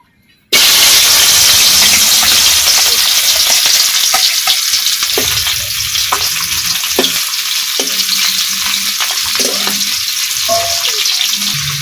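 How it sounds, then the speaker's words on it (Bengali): Shing fish fry in hot oil, and the loud, steady sizzle starts abruptly and holds throughout, with faint clinks and stirring sounds underneath. "তেল গরম হয়ে গেছে, এখন আমি মাছগুলো দিয়ে দেবো ভাজি করার জন্য।"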